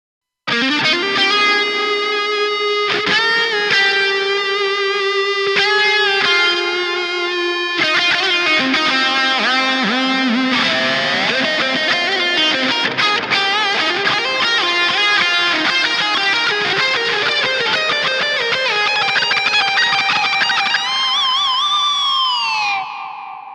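Electric guitar lead tone run through a JST Toneforge Menace plugin with a delay send, loud distorted sustained notes and bends opening into a fast melodic run, trailing echoes ringing out and fading at the end.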